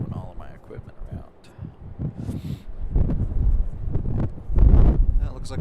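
Wind buffets a microphone during plane spotting at Raleigh-Durham International Airport, a rough, rumbling gusting that swells and fades, heard under someone speaking nearby.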